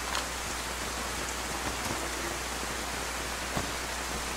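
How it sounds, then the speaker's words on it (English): Steady rain falls in the survival video game DayZ, a soft, even hiss of drops on surfaces with faint scattered taps, quiet and unbroken. "It is raining, so I guess I don't have to."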